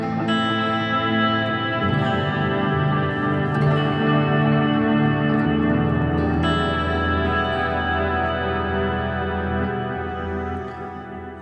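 Electric guitar played through a BOSS GT-100 amp effects processor on its clean PA delay preset, sustained chords and notes with lush echoing repeats and reverb, steady and loud with no speech.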